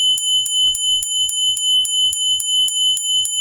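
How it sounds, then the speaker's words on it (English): A heavy-walled Japanese Buddhist bell, the gokore, struck in a steady rhythm about a dozen times, each a bright percussive ring with little sustain, close and loud. "This is the gokore from Japan, a real heavy walled Buddhist bell."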